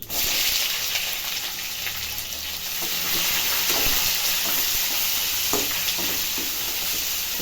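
Green chillies and onion frying in a pan for rava uppittu, a steady loud sizzle of hot oil with occasional stirring scrapes, close and continuous, no talking.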